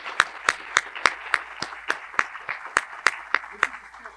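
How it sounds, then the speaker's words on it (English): Audience applause at a university faculty award ceremony, heard as crisp, evenly spaced claps in a steady beat, close and distinct rather than a dense roar, lasting about four seconds. "give them another round of applause"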